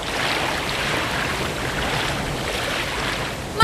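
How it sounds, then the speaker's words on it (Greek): A cartoon whirlpool of swirling water roars in a steady, loud, broad rush of churning water, with no talking. "Το νερό στροβιλίζεται! Είναι ρουφήκτρα!"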